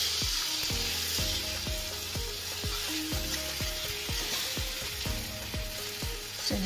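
Eggs fry in a pan for egg masala with a loud, continuous hiss and crackle and repeated quick ticking pops, close by with no talking.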